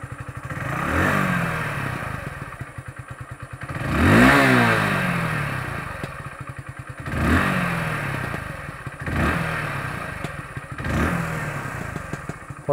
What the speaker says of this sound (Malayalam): ഇതാണ് നമ്മുടെ വണ്ടിയുടെ ഐഡ്ലിംഗ് സൗണ്ട് എന്ന് പറയുന്നത്.